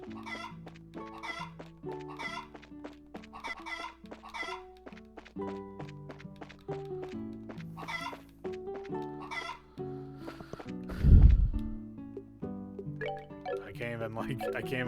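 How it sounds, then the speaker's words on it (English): A chicken in a farming video game clucks in repeated short bursts over soft melodic game music, with a louder thump near the middle and quieter background chatter. "I want to catch that chicken."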